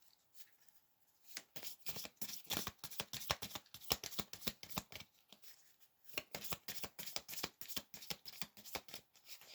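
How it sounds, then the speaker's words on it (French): Tarot cards riffle and slap in quick, crisp bursts at close range, two busy runs of shuffling separated by a brief pause, with no voices. "Je vais rajouter 3 cartes."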